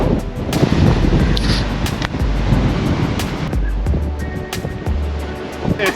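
Strong wind buffets the microphone over high-tide waves washing in at a beachfront campsite at Seisia, Cape York, a loud, continuous roar with gusty bursts and no voices.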